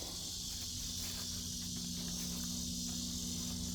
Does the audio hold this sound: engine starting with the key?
no